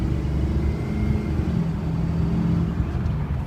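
A 2005 Chevy Silverado diesel truck pulls hard under acceleration, a steady deep rumbling drone with a faint rising whine, heard from inside the cab, no talk.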